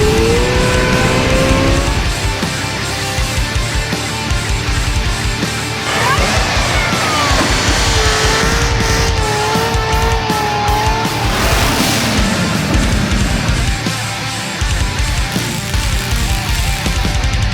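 A supercharged Chevrolet Corvette C6 Z06 with fresh headers making a dyno pull, a loud, sustained engine roar with rising and falling tones and some harsh, rattling bursts, close and continuous.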